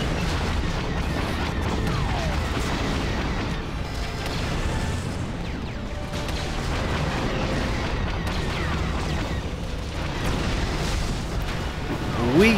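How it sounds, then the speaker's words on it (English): Booming blasts fill a Star Wars Galactic Conquest space battle with a steady, loud roar of explosions and mechanical effects that keeps going from start to end. "A lot of explosions all of a sudden."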